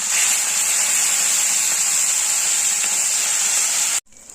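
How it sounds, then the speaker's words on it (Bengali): Fish pieces fry in hot sunflower oil, producing a loud, continuous hissing sizzle up close that cuts off abruptly near the end. "তেলটা বেশ গরম হয়ে এসছে, এবারে একে একে মাছগুলো অ্যাড করে দিচ্ছি।"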